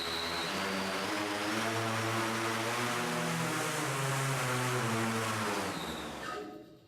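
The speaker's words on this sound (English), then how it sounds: "starting motors now" Electric motors on the Makani Wing 7 airborne wind turbine prototype spin up into a loud, steady propeller whine with rising and shifting tones, holding strong for several seconds before cutting off abruptly near the end.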